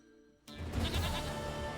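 A goat bleats in a video game, a loud wavering animal cry that starts abruptly after a short quiet moment and carries on over a steady game backdrop.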